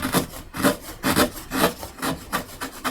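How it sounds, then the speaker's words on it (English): Chisel paring high spots off a carved woodblock for Japanese printmaking, a close run of short scraping strokes in an uneven rhythm, each a dry rasp of steel across wood, with no voices. "Chisel it off, confirm, gone."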